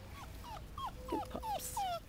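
Boerboel puppies whimper nearby, a string of about six thin rising-and-falling whines at a steady pace, with a small yip near the middle.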